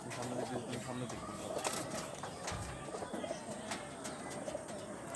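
Pet pigeons of Teddy and Kamager breeds, including Golden Teddy, Oman Teddy and blue Kamager birds, coo in soft repeated calls amid a busy, noisy background, with sharp clicks and rustles mixed in.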